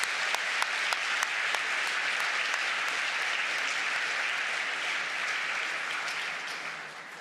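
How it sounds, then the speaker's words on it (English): Audience applause for a youth eczema support panel at a dermatology conference session, sustained even clapping from a seated crowd with a few sharper claps standing out, steady for several seconds then tapering slightly. "I think they deserve another clap."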